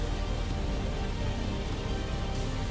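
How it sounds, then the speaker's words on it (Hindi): Heavy rain pours down in Thrissur, Kerala, a dense, steady, loud hiss of falling water with no pauses and no voices. "केरल के त्रिशूर में भारी बारिश।"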